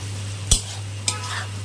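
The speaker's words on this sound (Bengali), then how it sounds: "কালারটা অনেকটা চেঞ্জ হয়ে এসছে পেঁয়াজের, আর অল্প ভাজা হবে।" Onions frying in a pan for palak paneer, with two sharp scraping stirs standing out over a steady low sizzle and a faint background hum.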